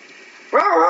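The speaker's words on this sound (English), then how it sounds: "You bark at me, I bark back." A dog gives a single short bark or yelp, close and fairly loud, after a moment of faint background sound.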